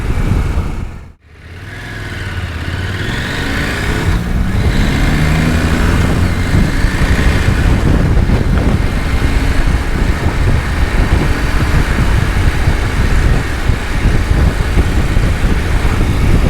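A Husqvarna Norden 901 motorcycle revs and accelerates through its gears, a loud steady engine roar with brief dips as it short shifts, sustained and close throughout.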